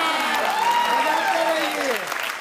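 Audience applause at a Bhojpuri reality TV poetry show, sustained clapping from a studio crowd while a voice speaks over it.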